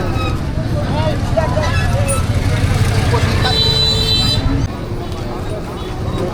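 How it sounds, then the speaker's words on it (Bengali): Road traffic idles and crawls in a jam at Bhitara bazaar beside a duck and chicken market, with a steady engine drone, a long car horn blast and voices nearby. "জ্যামে পড়ে গেছি রে আরিয়ান।"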